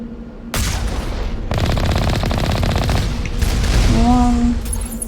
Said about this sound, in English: These are Alliance heavy turrets, so one would assume